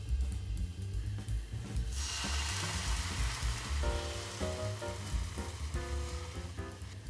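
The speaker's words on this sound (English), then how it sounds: "once our pan's hot, what we want to do is actually burn off the alcohol as well" Port wine hits a hot pan and burns off its alcohol for a port jus, giving a loud, continuous sizzle and fizz, with faint clinks and tonal kitchen ringing partway through.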